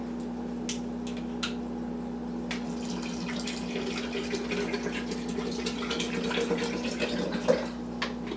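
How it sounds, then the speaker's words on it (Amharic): Water pours steadily into a batter for Ethiopian siljo, a soft continuous trickle and splash close by under a low constant hum, with no talk. "ውሃ እንጨምራለን።"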